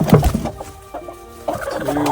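Broody hens cluck softly in a nesting box, a few short, close clucks and low throaty murmurs with quiet gaps between.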